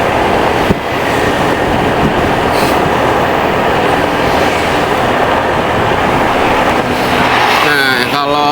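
A train passes beside the Pantura road between Brebes and Semarang, a loud, steady rumble that fills the whole stretch, with a brief squeal near the end.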